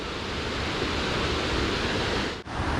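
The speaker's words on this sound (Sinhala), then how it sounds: "මෙතන පහලින් ඇල්ලක් ගලාගෙන යනවා." A waterfall in the Bomuru chain of waterfalls pours somewhere below, heard as a loud, unbroken broadband rush with one brief dip near the end.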